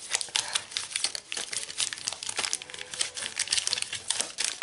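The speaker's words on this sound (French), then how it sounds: "on mélange comme si j'avais un paquet de cartes" Pokémon Silver Tempest booster packs are shuffled in the hands, giving a continuous close crinkling and rustling of foil wrappers at an even, busy pace.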